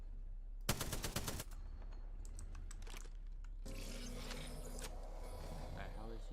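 A rapid burst of automatic gunfire from the Apex Legends video game crackles for about a second near the start, followed by softer in-game clatter and a broad rushing effect.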